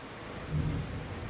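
Steady rain pours down with a low rumble of thunder rolling in briefly, a soft continuous hiss of rainfall under a distant swell of thunder.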